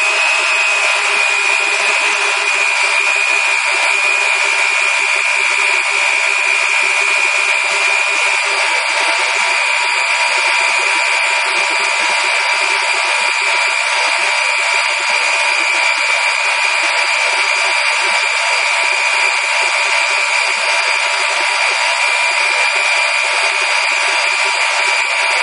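An electric mixer beats egg yolks with sugar in a bowl, giving a loud, steady, high whine that holds an even pitch without pause for nearly half a minute.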